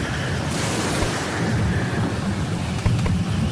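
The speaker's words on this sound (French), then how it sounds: "Je vais plutôt aller en mer, faire un tour sous la tempête" A thunderstorm at sea in the survival game Stranded Deep roars as loud, constant rain and wind, with deep thunder rumbling underneath and a sharper crack near the end.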